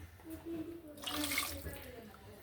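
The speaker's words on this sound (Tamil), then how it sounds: "தேவையான அளவு வந்து தண்ணி ஆட் பண்ணிக்கிறேன்" Water is poured into a ground paste for fish curry, giving a short soft splashing gush that swells briefly and fades over a quiet kitchen background.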